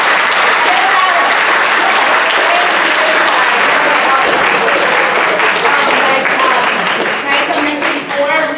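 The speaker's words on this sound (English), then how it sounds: "Hands, please, clap." A college audience claps loudly and continuously as a steady dense wash of many hands, with a little crowd noise, tapering slightly near the end.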